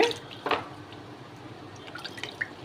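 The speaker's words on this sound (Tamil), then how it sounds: "இதை வந்து லைட்டாக தண்ணி தெளிச்சுக்கோங்க" Water is lightly sprinkled over fresh spinach greens in a kitchen, giving a few soft, close drips and patters with quiet gaps between.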